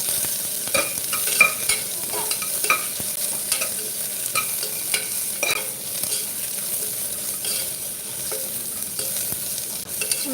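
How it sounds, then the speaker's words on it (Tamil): Onions sauté in a pan for tomato rice, a soft steady sizzle under repeated scraping stirs of a spoon against the pan, close and rhythmic, with no talking. "சேர்த்துட்டு நல்லா வதக்கி எடுத்துக்கோங்க வெங்காயம் நல்லா வதங்கி வரணும்"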